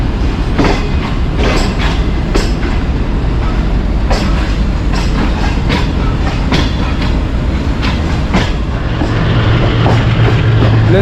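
The Shalimar Express gathers speed leaving Lahore, a loud, continuous rumble of rolling stock with rhythmic clickety-clack of wheels over rail joints and occasional metallic squeals, close and filling the whole stretch.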